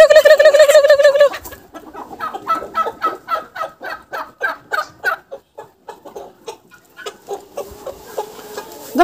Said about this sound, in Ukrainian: Давай, півень, виходь.